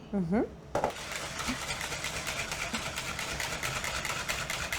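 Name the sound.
Thermomix whisking egg yolks and sugar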